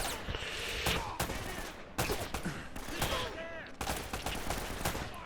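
Rapid gunfire fills an Uncharted: Drake's Fortune firefight, dense bursts of shots cracking one after another with a few sharp louder reports, continuous and close throughout.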